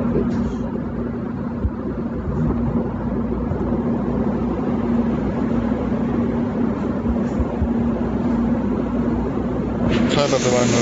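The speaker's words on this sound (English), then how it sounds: "Sorry about the loud noise, it's the oven," A loud oven runs at a workplace as a steady, dense roar that stays constant throughout, with no clear speech above it.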